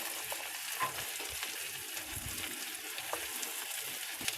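Chopped carrots fry with garlic and green chilli in a pan, a steady sizzle broken by the soft scrapes and knocks of stirring.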